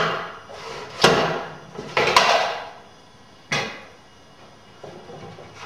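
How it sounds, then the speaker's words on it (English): An aluminum can is dropped into a tube and crushed with a can compressor: a few sharp, close clunks and thumps separated by quiet pauses, with no talking. "The aluminum cans go in this tube right here. Drop the can in. Put the compressor on top."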